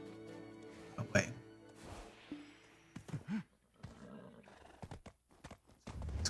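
A horse in the Black Desert Online video game gives a whinny alongside clip-clopping hoofbeats, set among other busy game sounds at a moderate level.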